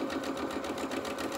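A sewing machine runs steadily, sewing a zigzag stitch in a fast, even mechanical whir.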